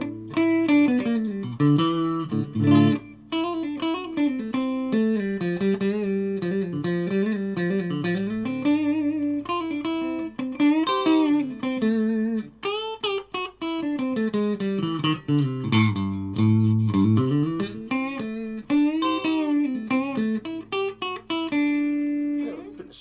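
A Jackson X Series WRXT Warrior electric guitar plays clean through reverb with both pickups on, ringing chords and melodic phrases with bright sustained notes and a lingering echo, loud and alone.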